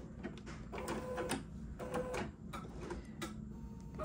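A machine stitches an appliqué block in a box placement guide, a rapid mechanical chatter pulsing in short bursts at close range.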